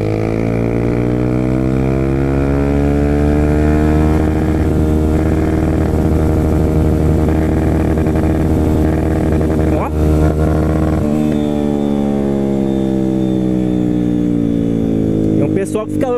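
A new Yamaha Fazer 250cc motorcycle engine hums steadily at high revs on a night ride, its pitch holding then dropping around a gear change, loud and close throughout with wind noise.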